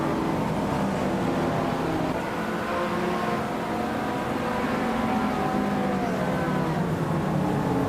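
Race cars in a racing video game roar around the Fort Wayne Road Circuit, a continuous blend of engine drones and tire noise held at steady loudness throughout.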